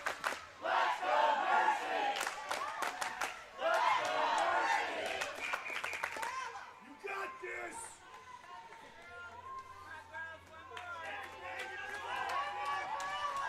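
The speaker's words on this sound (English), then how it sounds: "And Mercy's crowd trying to repump up their Marlins." The Mercy fan section cheers and chants at a girls' high school hockey playoff game, loud rhythmic crowd shouting that rises in waves, then fades under arena noise and an announcer's talk.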